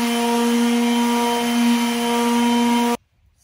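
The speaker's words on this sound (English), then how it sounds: "next step, sanding this." A power sander works over a wooden nightstand, giving a steady, loud droning whine for about three seconds before cutting off abruptly into near silence.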